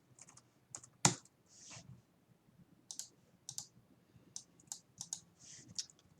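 Keystrokes on a computer keyboard as a command is typed into a command prompt, coming in quick irregular bursts of soft clicks with one sharper, louder tap near the start and short pauses between words.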